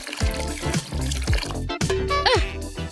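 Water poured over a Barbie doll's hair while washing it, a steady splashing trickle up close, with music and bright toy sounds playing alongside.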